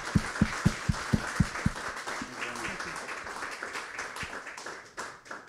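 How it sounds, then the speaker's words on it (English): A keynote audience at a university symposium gives a round of applause, opening with a few sharp, evenly spaced claps close by, then spreading into a softer, steady patter of many hands. "Please do join me in a round of applause."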